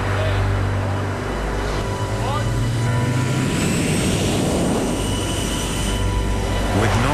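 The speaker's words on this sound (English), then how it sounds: "the air wing takes to the sky, headed for their land base" Carrier air wing jets launching to fly to their land base, a loud continuous roar that swells and shifts in pitch as they depart, filling the whole stretch.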